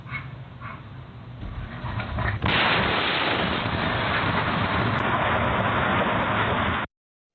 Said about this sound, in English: Ring doorbell video from a few doors down captured the moment of the explosion.